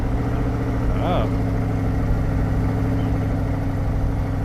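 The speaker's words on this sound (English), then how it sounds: "Sounds like it's got the performance exhaust box checked as well." A 2021 Chevrolet Corvette C8 with performance exhaust idles with a deep, rumbling exhaust note, steady and close, with a brief higher-pitched sound partway through.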